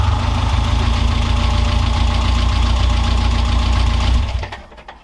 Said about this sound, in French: Bonne nouvelle, ça a démarré au quart de tour, impressionnant.